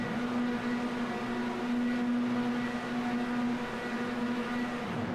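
Formula 4 race cars on the starting grid at Autodromo Hermanos Rodriguez hold their engines at a steady, loud high-rev drone for the whole stretch, with no voices.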